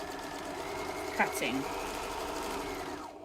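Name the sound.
sewing machine stitching elastic into a face mask headband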